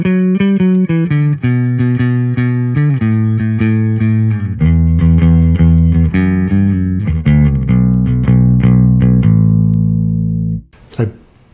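Bass guitar played with a pick through an HX Stomp using a Trace Elliot amp model, bright, punchy notes in a steady riff with sustained low tones, loud and close, ending abruptly.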